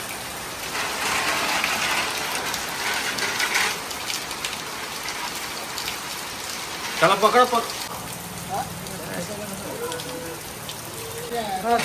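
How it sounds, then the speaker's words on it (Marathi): Heavy rain hisses steadily throughout while people talk and call out over it. "रात्रीपासून पाऊस पडतोय"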